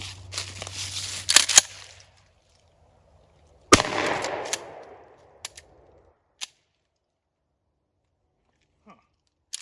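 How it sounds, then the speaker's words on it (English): A Hawk 982 pump shotgun firing 00 buckshot at steel targets outdoors: a loud blast at the start and another sharp report mid-clip that rings out, then a few small clicks and taps as it is handled. "I'm just gonna try a few initial shots at the steel and reload"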